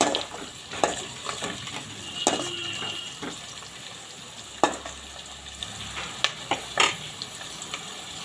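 Ginger, garlic, green chilies and curry leaves frying in hot oil for fish pickle, a steady close sizzle broken by sharp clinks and scrapes of a spoon stirring against the pan.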